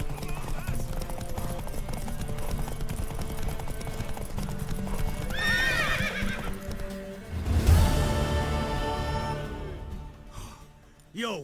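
Horse hooves clip-clop steadily in The Witcher 3 video game while a horse neighs loudly twice, a whinny rising near the middle and another toward the end, with voices speaking faintly underneath.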